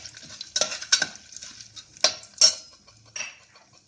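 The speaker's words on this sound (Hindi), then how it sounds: "अब इसमें डालेंगे चना दाल और उड़द दाल, इसको हल्का सा ब्राउन होने देंगे।" Chana dal and urad dal tossed into hot oil with a pinch of hing in a pan, giving a few sharp metallic clinks and scrapes of a spoon stirring over a faint sizzle, close and with no talking.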